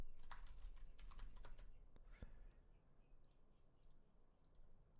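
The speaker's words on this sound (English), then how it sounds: "I'm going to type in backup" Quiet clicking of a computer keyboard as a short word is typed, a quick cluster of keystrokes followed by a few sparser taps, faint and close with no talk.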